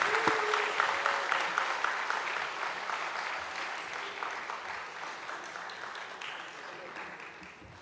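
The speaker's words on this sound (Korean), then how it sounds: "박수로 환영하겠습니다." A church congregation at a Sunday service applauds to welcome children coming forward for an award, sustained broadband clapping from many hands that fades gradually over several seconds, with a faint voice briefly audible underneath.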